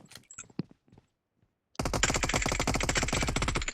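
Automatic gunfire in PUBG Mobile, a rapid, loud, continuous burst of shots that starts abruptly after a few scattered taps and quiet, running steadily to the end.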